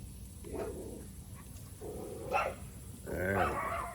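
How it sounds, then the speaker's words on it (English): A dog barks three times at a moderate distance, short woofing barks spaced about a second apart over a low background hum. "I don't like that barking Kippy."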